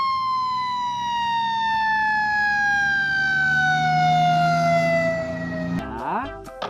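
A red toy fire truck siren wails loud and close in a long, slowly falling electronic tone, then breaks off near the end into a few clicks and rattles of the plastic toy.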